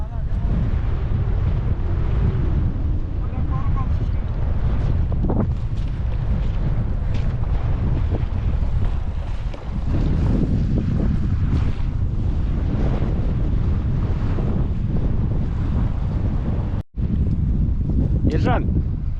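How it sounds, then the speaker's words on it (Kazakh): Strong spring wind buffeting the microphone outdoors during duck hunting near water, a loud continuous roaring rumble with gusts throughout, while people talk under it. "Жел страшно, да?"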